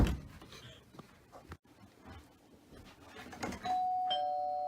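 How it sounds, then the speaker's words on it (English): A doorbell chimes near the end with a clear sustained electronic tone after some rustling and faint handling sounds. "Stop ringing my non-existent doorbell."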